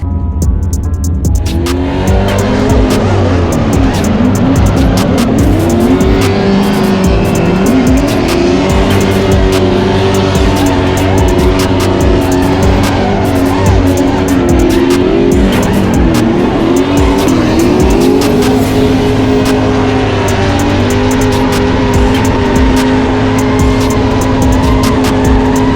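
Drift cars running tandem laps on a test day, engines revving hard with rising and falling pitch and tires squealing continuously, loud and close the whole time.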